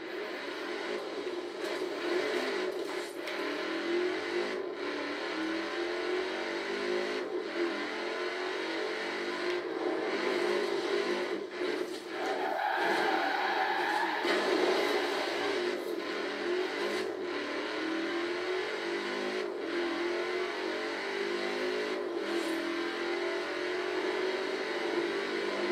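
Audi RS6 engine in the racing game Forza Horizon 4, a steady mid-pitched engine drone with revving swells, loud and continuous throughout with no talk.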